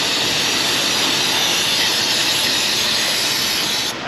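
Brake cleaner sprays onto the stuck axle splines of a Ram 1500 in one loud, continuous hiss lasting about four seconds, cutting off abruptly at the end.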